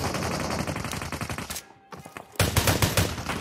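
Gunfire in the battle royale game PUBG: rapid automatic bursts of loud cracking shots, a short lull, then another dense volley of shots.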